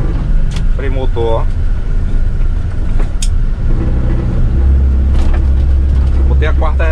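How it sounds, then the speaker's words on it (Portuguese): A Mercedes-Benz dump truck holds its engine brake, a loud, low, steady rumbling drone that builds toward the end, with someone talking over it from inside the cab. "Freio motor, ó."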